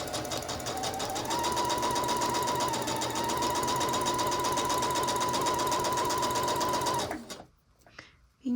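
A sewing machine runs a steady, loud, continuous stitch along a dress seam with a 1 centimeter seam allowance for about seven seconds, then stops abruptly, leaving near silence.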